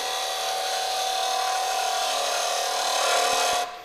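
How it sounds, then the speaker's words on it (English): Finishing tool cutting a hardwood pen blank spinning on a lathe, a steady, close whirring scrape with a sustained tone that runs evenly and then cuts off abruptly near the end. "the slower along I move my finishing tool, the smoother finish it's going to give me"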